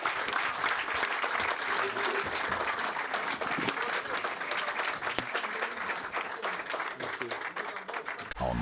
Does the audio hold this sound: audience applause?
yes